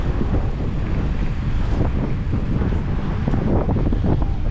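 Strong, unpleasant December wind on a beach at Adler in Sochi buffets the microphone in a steady, loud roar, with surf faintly mixed into the rush and no voices.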